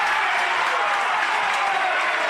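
A Nightcliff crowd at an under-17.5 male grand final football match between Southern Districts and Nightcliff lets out a loud, sustained roar of disapproval, a dense wash of voices that holds steady throughout.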